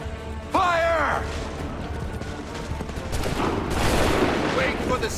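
Musket volleys in Assassin's Creed 3 during a Montreal battle: loud bursts of massed gunfire crackle close by, with a shouted command and a burst of shouting at the start and a second rolling fusillade later.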